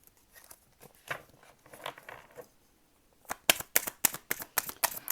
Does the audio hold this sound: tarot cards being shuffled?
yes